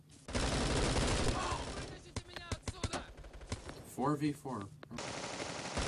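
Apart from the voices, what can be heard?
gunfire in the video game Bullet Force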